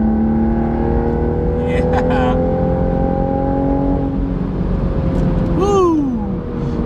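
A tuned car with an aftermarket charge pipe and catalyst downpipe, heard from inside the cabin with the windows up: a steady, muffled engine drone that swells into a short rev near the end, with one brief spoken word.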